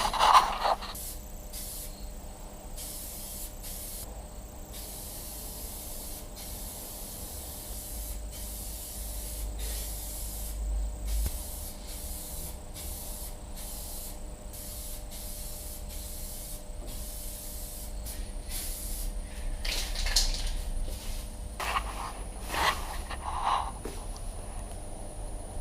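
A spray gun lays base coat paint in a car engine bay, short bursts of hiss starting and stopping again and again over a low background rumble, close and fairly steady.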